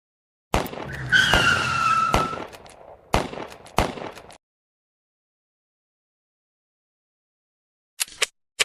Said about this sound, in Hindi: बुरी तरह अनियंत्रित हुई कार खंभे से टकराकर रुक गई।